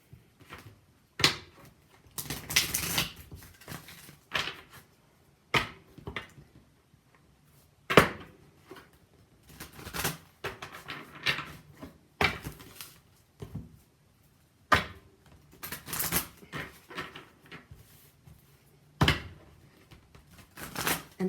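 Riffle shuffling a tarot deck cut in half: repeated short bursts of fluttering, snapping card clicks, each followed by a softer bridge and tapping, recurring irregularly and close up with quiet gaps between.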